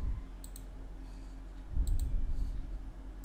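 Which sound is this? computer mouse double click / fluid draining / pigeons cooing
computer mouse double click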